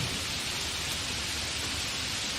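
During a thunderstorm, heavy rain and wind make a steady, broad hiss at moderate level that carries on evenly without a break, with no thunder clap standing out.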